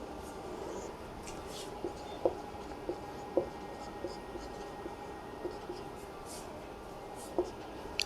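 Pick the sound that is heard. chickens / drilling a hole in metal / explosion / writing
writing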